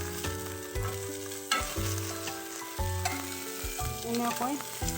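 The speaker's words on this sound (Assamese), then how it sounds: "এনেকৈয়ে মই অমলেট দুখন ভাজি লৈছোঁ।" An egg omelette fries in a pan, a soft continuous sizzle mostly buried under louder background music with sustained tones, with no speech.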